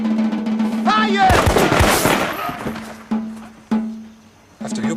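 Stage gunfire from a firing squad in a play, a loud dense crackling volley bursting out after a shouted command, with voices around it and a steady hum underneath.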